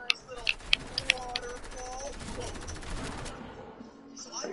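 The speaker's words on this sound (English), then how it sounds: "There's two people shooting me." Assault rifle gunfire in a video game: sharp rapid bursts of shots early on, then a dense rattling stretch with talk over it.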